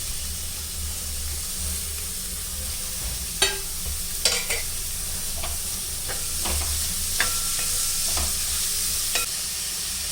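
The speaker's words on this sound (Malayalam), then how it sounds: "ഇഞ്ചി വെളുത്തുള്ളി ഒന്ന് മൂത്ത് വരുന്ന സമയത്ത് സവാളയും പച്ചമുളക് ഇട്ട് കൊടുക്കാം." Sliced onion and green chilli sautéing in a pan with ginger and garlic for a chicken stew: a steady close sizzle with scattered sharp spatula scrapes and clicks, no voices.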